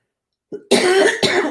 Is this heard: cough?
yes